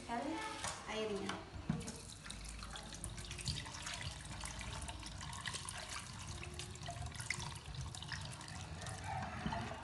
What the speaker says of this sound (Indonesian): setelah perendaman selesai selama 2 jam, kita akan meniriskan airnya.